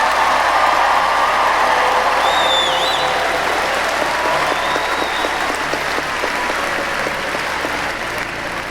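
Sustained applause from a graduation ceremony audience honoring the class of 2019, a dense, steady clapping crowd filling the hall at even loudness throughout, with a few faint whistles and voices mixed in.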